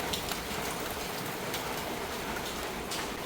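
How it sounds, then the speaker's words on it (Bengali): Evening rain after a day of drizzle and downpour falls steadily in a Bangladeshi home, a faint, even hiss of drops with no pauses and no voices. "এখন সন্ধ্যা হয়ে গেছে তাও দেখুন বৃষ্টি থামছে না"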